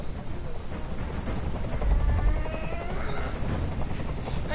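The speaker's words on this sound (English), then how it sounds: "I can't stand that noise anymore. Tell that helicopter to get out of here." A helicopter hovers over a city scene in Detroit: Become Human, giving a steady loud rotor rumble with a throbbing low pulse that fills the whole stretch.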